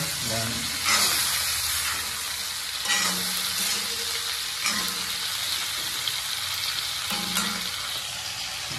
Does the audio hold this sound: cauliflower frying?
yes